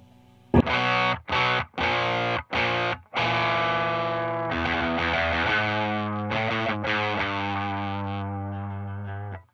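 A heavily distorted electric guitar through an Arion Metal Master distortion pedal chugs several short choppy chords, then lets a thick, saturated chord ring out and slowly fade.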